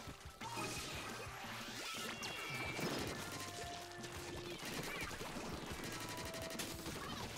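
Bomb explosions in Splatoon 2 burst and crash amid dense, continuous game action, with rapid splattering shots and whooshes layered over music, loud and busy throughout, with no talking.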